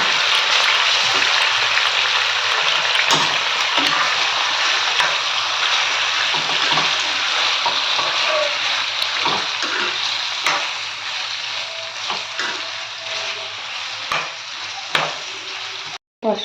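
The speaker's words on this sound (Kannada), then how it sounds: "ನಾನು ತೊಳೆದಿರೋ ಚಿಕನ್ನ ಎಣ್ಣೆಯಲ್ಲಿ ಚೆನ್ನಾಗಿ ಫ್ರೈ ಮಾಡ್ತಾಯಿದ್ದೀನಿ." Washed chicken frying in oil for country-style green chicken chops, a loud, dense hiss of sizzling that runs on steadily up close, with occasional spatula taps and stirring.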